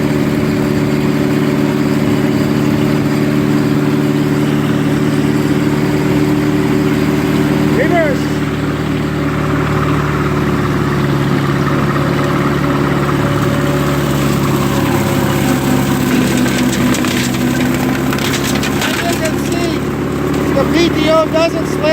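A 1958 Oliver 550 tractor runs with its PTO engaged, the engine a loud, steady drone with shifting load as the mower works, and a brief squeal partway through.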